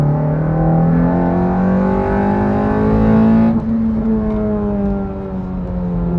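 A 2015 ninth-generation Honda Civic with a K24 engine and muffler delete revs hard and loud, its raspy note climbing steadily in pitch into VTEC, then dropping briefly on a shift before rising again, close and alone.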